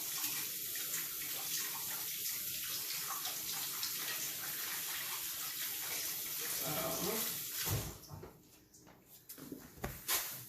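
Lemons being washed by hand under a running kitchen tap, a steady close rush of water that continues for several seconds, then gives way to handling clatter and small knocks near the end.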